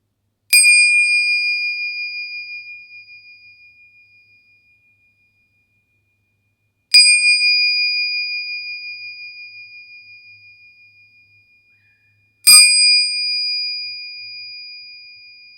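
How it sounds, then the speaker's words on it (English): A meditation bell struck three times, each a clear bright ring that slowly fades over several seconds, with silence between strikes and the last one struck again before the previous tone has faded. "I will just clear the field with the bell that I have here."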